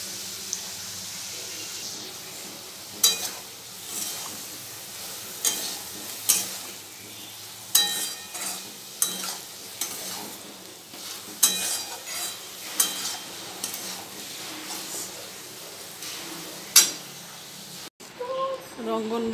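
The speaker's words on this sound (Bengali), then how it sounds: "আলু পেঁয়াজগুলো একটু ভেজে নেবো লাল লাল করে" Potatoes and onions frying in oil in a wok, sizzling steadily while being stirred, with recurring scraping strokes from the stirring and some background voices.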